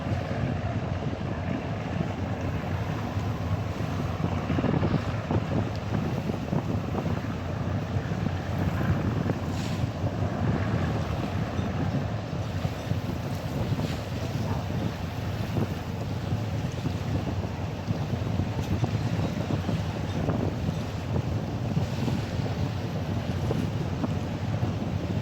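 Sotabdhi Badhon passenger launch slowly cruising a river channel at night, a steady low engine rumble mixed with constant wind and water noise, unbroken and without voices.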